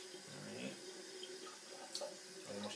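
Water runs from a kitchen tap as a little is added while cooking. A faint, steady trickle sits in a quiet room with some small clinks and rustles.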